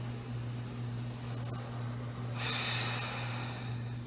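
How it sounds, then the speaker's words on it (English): A slow, deep breath drawn in during a yoga session, a soft airy inhale that swells partway through over a steady low electrical hum, close to the microphone. "Let's take one more big slow breath here."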